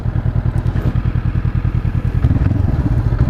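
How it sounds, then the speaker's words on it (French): A 2019 Honda CB500F twin-cylinder motorcycle engine runs close by with a rapid, pulsing low thrum, steady throughout with slight rise near the end. "Le bruit, c'est un bruit de petit bi"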